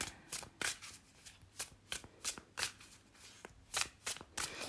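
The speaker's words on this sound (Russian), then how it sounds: "Перемешаем наши карты." A deck of tarot cards is shuffled by hand up close, a quiet run of crisp, rhythmic riffling flicks repeating about every half second.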